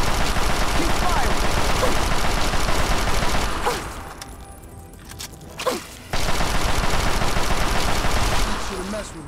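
Gunfire in the video game Fallout 3: dense bursts of rapid automatic shots fill the first few seconds, drop to near quiet briefly, then resume just as loud and sustained.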